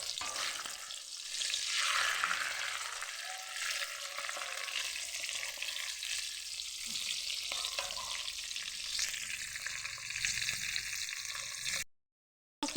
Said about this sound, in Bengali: তো এরকম তেলে কিছুক্ষণ আমি এটাকে ভেজে নেব, ভালো করে লালচে করে এটাকে আমি ভেজে নেব।